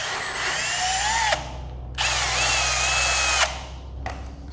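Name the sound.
chamfering drill bit drilling car part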